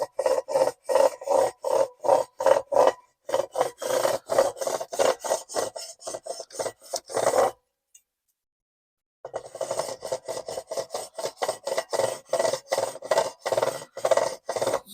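Guitar frets being leveled with a file, making rhythmic back-and-forth rasping strokes, close and steady, pausing briefly partway before resuming at the same pace.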